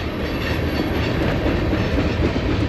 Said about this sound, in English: As soon as I said the words, I doubt we'll see a train today, and then it popped up.